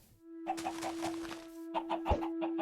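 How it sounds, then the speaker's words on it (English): Minecraft chickens cluck in short, quick bursts over a steady electronic hum, fairly faint and close, with a brief pause between two clusters of clucks. "I'll go ahead and breed the chickens"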